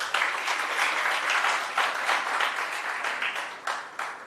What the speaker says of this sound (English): Can we clap for everyone?